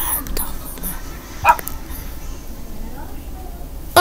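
A dog in the Minecraft video game whimpers after being struck, giving brief yelps under a person talking.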